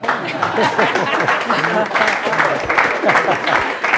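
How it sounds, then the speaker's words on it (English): Audience clapping at a creative economy town hall, a crowd's hands patting steadily beneath someone talking loudly over it. "Clap hands for me."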